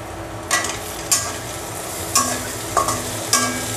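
Onion and garlic for a sour-spicy mango pickle with Bombay chillies simmer and hiss in a covered pan, broken by five sharp scraping stirs at regular intervals; no talk.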